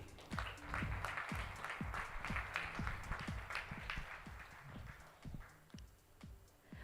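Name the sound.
audience applause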